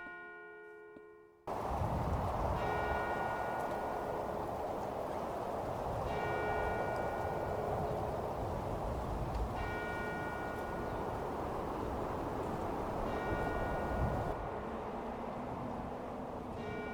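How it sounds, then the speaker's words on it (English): Church bells ring in the block-building video game Minecraft, tolling roughly every three to four seconds, each strike ringing out clearly above a constant, loud background wash. "Then I heard the bells ring, and I knew the priest had arrived."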